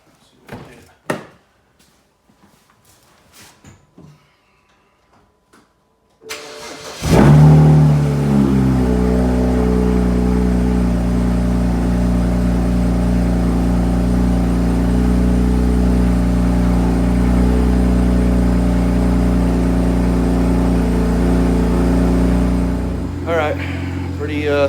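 A BMW 335xi with the N54 engine cranks and fires after a few faint clicks and handling noises, then settles into a loud, steady idle that runs on for over fifteen seconds.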